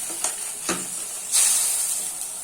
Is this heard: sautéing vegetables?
yes